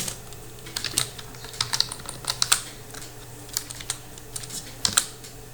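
Keys clatter on a computer keyboard as text is typed into HTML headings, a close, irregular run of light clicks and taps with no voice over them.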